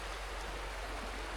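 A stream on a farm flows steadily with a soft, even rush of water. It is faint and continuous, with no talk, over a brief moment.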